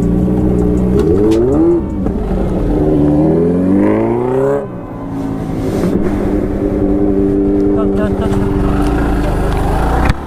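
A motorcycle engine runs just after being started, revving up and down in a loud, rough, pulsing drone before settling into a steady idle, with a person talking over it.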